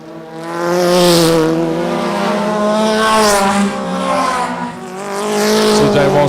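Race cars roar down the back straight of the Weskus oval track, two engines holding high revs with steady droning tones that swell and fade slightly as they pass, with no talk over them.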